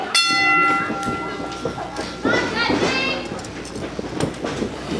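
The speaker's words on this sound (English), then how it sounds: "Ring the bell!" Bell rung to open a professional wrestling show, a CWF Mid-Atlantic Rising Generation League tournament event, heard as bright sustained metallic tones over crowd noise and children's voices, with talk throughout.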